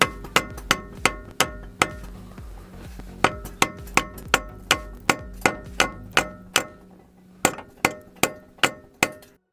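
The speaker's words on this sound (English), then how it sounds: "hammer it in there a little bit to spread it" Sharp metal-on-metal hammer blows drive a thick screwdriver into a front control arm joint on a Ford Fiesta Mk7 ST, a steady run of about two dozen close, ringing strikes with brief pauses between them.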